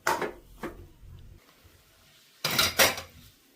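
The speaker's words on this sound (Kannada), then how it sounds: "ಮುಚ್ಚಳ ಮುಚ್ಚಿ." Metal pot lid clattering onto a cooking pot of wheat rava upma, two quick clanks early then a louder double clank after a quiet pause.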